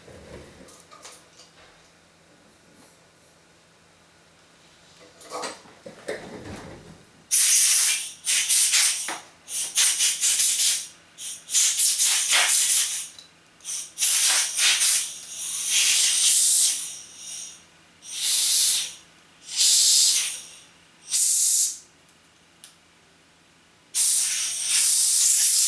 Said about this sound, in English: First, I'm going to give it a quick puff of compressed air.